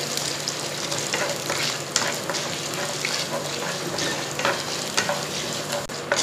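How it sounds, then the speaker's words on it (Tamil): Chana dal and urad dal sizzling and crackling in hot oil, a continuous bright frying hiss with occasional stirring scrapes, close and fairly loud, no voices. "இப்போ இதை நல்லா லைட் ப்ரௌன் கலரில் வர வரைக்கும் வறுத்துக்கோங்க."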